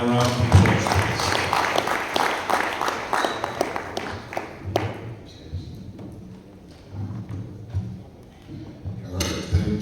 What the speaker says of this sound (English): Can I have a round of applause, please?